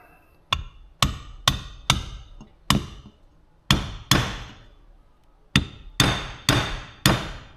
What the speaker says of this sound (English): I'm gonna use a really dull chisel